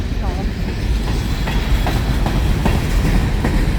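A three-engine BNSF empty coal train rolls past in rain, a steady loud rumble with rhythmic wheel clacks over rail joints and no break in the noise.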